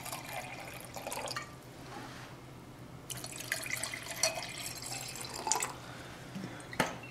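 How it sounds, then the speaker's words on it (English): Water poured from a tap into two laboratory beakers, a steady hiss of flowing water with drips and splashes, stopping briefly before a second fill, close by with no talk. "we're going to fill each of these beakers with about a cup of water"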